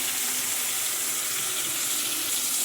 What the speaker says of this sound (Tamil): நம்ம தேவையான அளவு தக்காளி குழம்புக்கு தண்ணி சேர்த்துக்கலாம்